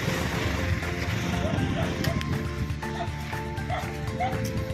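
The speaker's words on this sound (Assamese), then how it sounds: "পাহাৰৰ লোকেল কুকুৰ কেনেকুৱা হয়" A local hill dog in Arunachal Pradesh barks several times at a moderate distance, short repeated yips over a steady outdoor background with a low engine hum.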